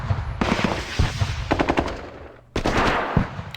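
Return gunfire in the Vietnam War strategy game Squad Battles: Vietnam, rapid bursts of machine-gun and rifle shots crackling close and loud, pausing briefly before another burst.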